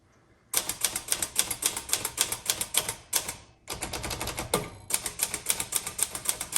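A 1964 Olivetti-Underwood Lettera 32 manual typewriter being typed on, with loud, close, rapid key strikes in a steady clattering rhythm, broken by two short pauses, the second with a carriage-return sweep.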